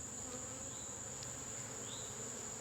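A steady buzz of honeybees at an opened hive during inspection hums throughout, a dense drone with a faint high whine, fairly quiet and continuous with no talking.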